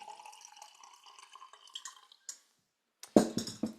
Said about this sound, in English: I fill up to the amount of water I want.